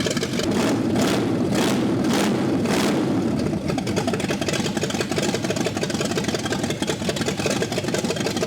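The new engine in a barn-find 1958 Plymouth idles at close range, with a steady low-pitched rumble and a rhythmic pulsing in the first few seconds that then settles into an even, busier idle.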